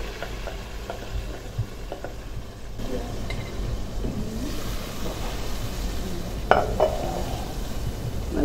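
Seasonings stir and fry in a very hot pan, giving a steady soft sizzle with occasional scrapes and clinks of a utensil against the pan, one sharper clatter standing out near the end.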